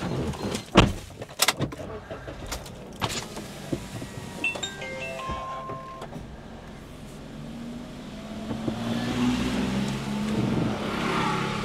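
A small vehicle being started and driven, with door and mechanical clunks early on, then a steady engine drone building and running continuously in the second half, fairly close.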